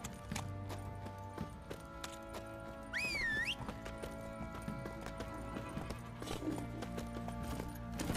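Horse hooves clip-clop steadily while a horse whinnies once in The Witcher 3: Wild Hunt, set against a continuous bed of sustained musical tones.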